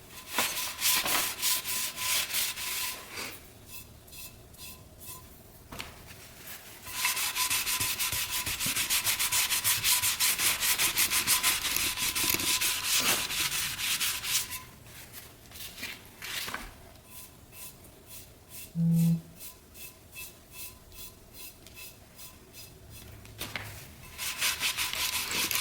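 Paint is rubbed by hand over an Amazon lamp to age it, producing close, steady scrubbing strokes in long rasping bursts separated by short pauses, with no talk over it.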